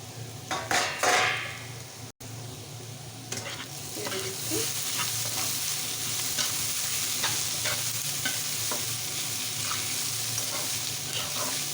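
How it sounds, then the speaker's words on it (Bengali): Potatoes with gourd skin fry in a pan as a utensil stirs them, clattering and scraping against the metal over a steady, close sizzle. "ঢাকনাটা তুলে এখানে আমি নেড়ে ছেড়ে দেবো"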